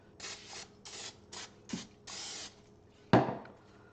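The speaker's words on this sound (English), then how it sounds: "and then flip it back to that side and spray the other." Short bursts of cooking oil spray onto a bowl of whole wheat bread dough, several quick hisses in a row followed by a louder knock near the end.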